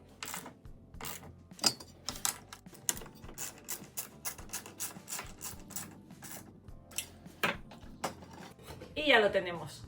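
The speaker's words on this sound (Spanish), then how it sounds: "Colocamos los tornillos." Screws being fitted onto a rivet nut tool, giving a run of sharp metallic clicks and clatters, irregular and close, with a brief squeaky rattle near the end.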